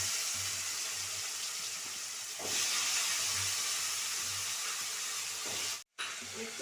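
Potatoes frying in a pan over spiced oil for a jhinge aloo posto dish, a steady broadband hiss and sizzle running throughout with a brief break near the end; no voices.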